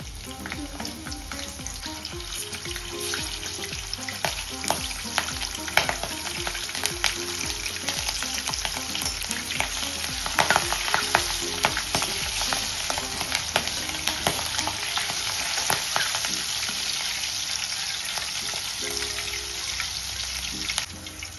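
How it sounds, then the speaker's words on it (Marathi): Slit green chillies fry in hot oil in a home kitchen, a continuous bubbling sizzle with crackles and pops throughout, close and steady with no voices. "आता आपण ह्या मिरच्या तळून घेऊया।"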